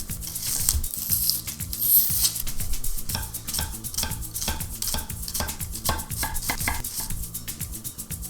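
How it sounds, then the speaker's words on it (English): A knife chopping vegetables, including corn, on a cutting board, a run of quick, sharp, evenly spaced thuds and taps, close up, no talking. "We're gonna cut these vegetables up real quick."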